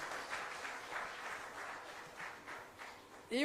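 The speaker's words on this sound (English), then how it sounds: "big clap to him" Audience applause at a national forestry symposium, greeting a guest honoured as the Orchid Man of Karnataka; steady, moderately loud clapping from a hall crowd that continues throughout, swelling briefly at the end.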